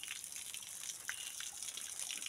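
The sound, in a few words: flowing stream of spring water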